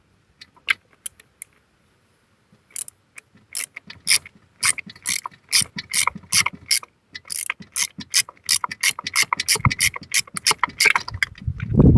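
Ratcheting clicks come from a wrench loosening a valve cover bolt on a Mercedes ML500 engine, starting with a few sparse ticks and then building into quick, close, repeated ratchet strokes.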